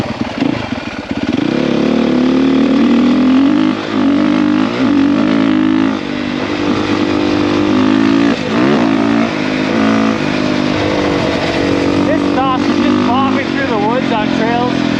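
Dirt bike engine loud and close throughout, steadily revving and shifting pitch with throttle changes while riding a trail, rising and falling under rider effort; faint wind buffeting, no speech.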